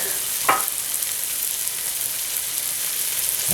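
Shrimp sizzle in olive oil in a pan, a steady close hiss of frying that holds level throughout, with one brief clink near the start; no voices.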